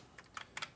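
A few quick, faint keystrokes clack on a Commodore 128 keyboard, about four light clicks in under a second in a quiet room.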